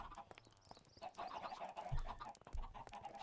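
Chickens in a Minecraft-style survival world farm cluck softly in a quiet, scattered run of game clucks with faint low thumps, heard at a low level without talk.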